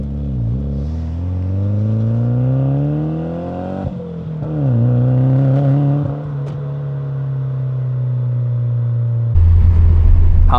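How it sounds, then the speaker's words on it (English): A Toyota Celica GT-Four engine revs repeatedly from the cabin, its rising and falling drone loud and close, with crackling exhaust pops and a backfire toward the end. "Pops, man, they're so good. That backfire is lovely."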